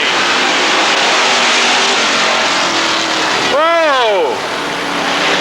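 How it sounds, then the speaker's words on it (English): Race cars roaring around Rockford Speedway, a loud, constant engine drone with one car sweeping past close by, its pitch dropping as it goes. "Oh, green flag, we're racing."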